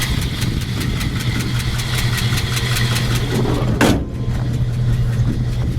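A 1953 Ford F100 pickup engine idles steadily with an even low rumble and a faint rhythmic ticking of slightly loose lifters, one brief sharp click near the end.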